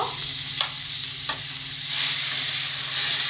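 Egg tarka sizzles in a hot pan as dal is added, with a spoon scraping and stirring in a few distinct strokes over a continuous frying hiss that grows slightly louder toward the end.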